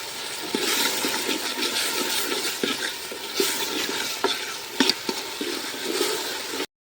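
Potatoes for aloo palak sizzle in hot oil while being stirred, a continuous crackling fry punctuated by repeated scraping stir strokes close by, with no voices.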